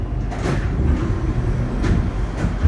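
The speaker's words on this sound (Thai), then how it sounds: "ตอนนี้เราก็ขึ้นมาอยู่รถไฟฟ้า" Inside a Bangkok Red Line electric commuter train while riding, a steady low rumble and hum fills the car, with faint rail clicks and soft whooshes passing at intervals.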